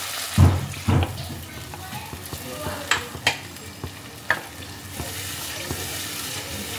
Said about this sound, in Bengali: এবার আমি এর মধ্যে দিয়ে দিচ্ছি জল।